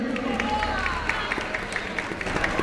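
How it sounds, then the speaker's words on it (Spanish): A crowd in an Ourense town square claps for a woman, scattered hand claps running under a speaking voice throughout. "Un aplauso por Dios a esta comadre"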